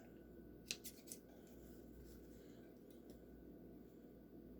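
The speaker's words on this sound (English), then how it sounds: "Trim all these extra threads out." Scissors snip a few quick times, trimming loose threads from a freshly sewn N95-style cloth face mask, with crisp close cuts early on and then quiet room tone.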